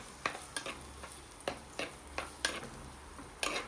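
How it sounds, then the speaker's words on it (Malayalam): Chopped shallots and green chilies sizzling in a pan for carp curry, a faint continuous fry under regular utensil taps and scrapes as they are stirred, about six or seven strokes. "ചൂടായി വരുമ്പോഴത്തേക്കും നമുക്കതിലേക്ക് ചെറുള്ളി അരിഞ്ഞതും പച്ചമുളകും കൂടെ ഇട്ടിട്ട് നമുക്കങ്ങോട്ട് ശരിക്കും ഇളക്കി കൊടുക്കാം"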